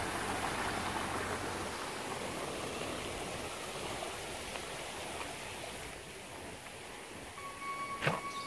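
River stream in a rural Indonesian village flowing steadily, a broad continuous rush of water heard alone, with a faint brief knock near the end.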